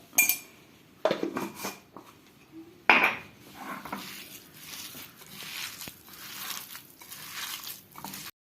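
Parippuvada batter with pepper powder worked by hand or spoon in a bowl, giving irregular close squishing and clinking knocks against the dish, with a sharp clatter near the start and quieter mixing throughout.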